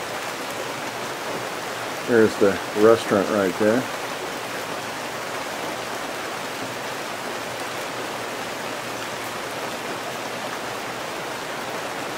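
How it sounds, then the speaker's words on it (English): Steady rain falls on a porch at a rainforest lodge in Puerto Viejo, Limón, Costa Rica, giving an even, continuous hiss. Someone speaks briefly over it early on. "As you can tell, it's raining."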